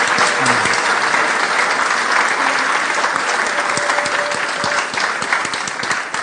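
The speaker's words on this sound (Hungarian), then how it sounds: "Give these girls a big round of applause." An audience claps steadily for a group of young girl musicians, dense and loud throughout and tapering slightly near the end, with no voices over it.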